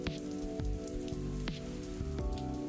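Steady rain falls in a video game, a constant wash of patter heard alone and fairly close, under a faint sustained musical tone.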